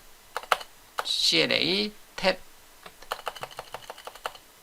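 Computer keyboard typing while writing code, with rapid clicking keystrokes in short bursts, close and clear, broken by a brief burst of speech in the middle.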